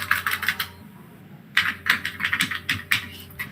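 Close, crisp keystrokes on a computer keyboard come in two bursts of rapid, uneven taps with a short pause between them, while a low hum sits underneath.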